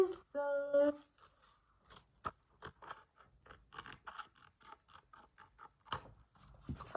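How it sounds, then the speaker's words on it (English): Scissors cutting paper, a series of short crisp snips and scraping cuts close by, scattered irregularly after a brief tonal sound at the start, fairly quiet overall. "Snippy, snippy, snippy. Cutting with scissors."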